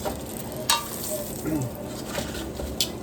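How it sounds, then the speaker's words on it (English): Beef short ribs searing hard in a pot, with a steady close sizzle and a few soft scrapes and clinks from turning the meat, no voices. "taking the time to really get that really hard sear on all sides"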